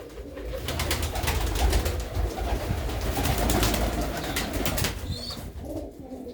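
Overlapping coos from desi pigeons kept in a loft form a dense, continuous murmur close by, with a brief higher chirp near the end and no voices.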